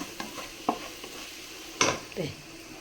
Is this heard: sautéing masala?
yes